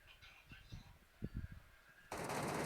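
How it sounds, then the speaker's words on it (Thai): Low murmured talk gives way abruptly to loud, sustained automatic gunfire from a PUBG Mobile match, which fills the final half second. "ยิงกันแล้วยิงกันแล้ว"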